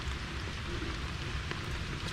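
Steady heavy rain falls on an outdoor turtle stock tank, a dense continuous hiss and patter of drops throughout with no pauses and no talking.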